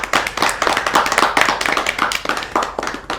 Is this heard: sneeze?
no